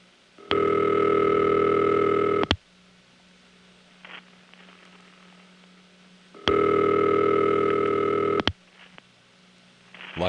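Telephone ringback tone from a New Jersey Crossbar exchange routed through Garden City, two long two-second rings separated by a pause, clear over a faint fuzzy line hiss.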